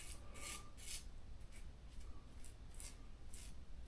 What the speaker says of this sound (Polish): żyletka absolutnie cały czas pracuje nam na skórze